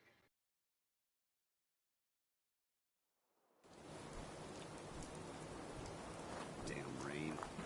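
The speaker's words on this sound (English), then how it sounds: "Damn rain." Rain falls in Fallout 4 as a steady, dense hiss that fades in after a brief silence, with a voice speaking over it near the end.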